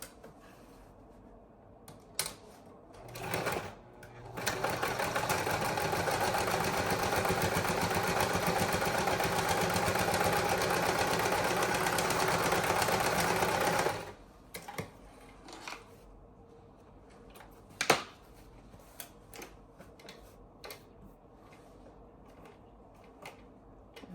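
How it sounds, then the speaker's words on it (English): A sewing machine runs a top stitch up a zipper, starting with a few short bursts, then a steady fast whirring run for about nine seconds, followed by quieter clicks and handling noises. "we're gonna sew a top stitch on here, up both sides, really close to the zipper."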